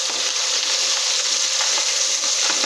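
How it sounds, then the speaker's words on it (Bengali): Pieces of boal fish, the wallago catfish, fry in hot oil with a loud, dense, unbroken sizzle close by, with faint spattering ticks running through it. "এই জন্য আগে এই 5 পিস মাছ ভালো করে ভেজে তারপর যেগুলো থাকবে কয়েকটুকু ওগুলো আবার ভেজে নেব"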